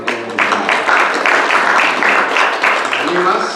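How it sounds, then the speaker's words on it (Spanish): Church congregation at a bilingual afternoon service applauding, a short burst of clapping that pulses unevenly and fades, with some voices mixed in underneath. "Un aplauso, hermano."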